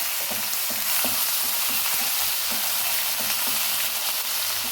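Ginger garlic paste sizzles and fries in hot oil in a pan, a steady close crackle with light stirring clicks throughout, no voices.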